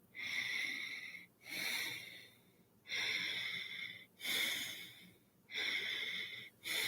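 Slow, deep breaths are drawn in while the muscles are held tense, repeating in a steady rhythm about every one and a half seconds, with an airy, wheezy edge, close and fairly soft.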